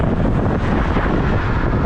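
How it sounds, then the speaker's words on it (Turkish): Strong outdoor wind buffets the microphone at a campsite, producing loud, continuous low rumbling and roaring gusts with no pauses. "Şu anda gerçekten rüzgarla savaşıyoruz."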